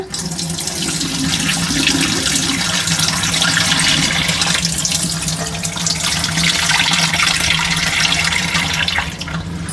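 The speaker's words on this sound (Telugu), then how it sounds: "ఇట్లా కడగాలండి ఇగో ఈ మంచిగా ఈ వాటర్ అంతా మనము ఫస్ట్ తీసేసేయాలా" Prawn shells being rinsed in water at a sink, with steady running tap water and sloshing that stays loud and continuous throughout, no voices.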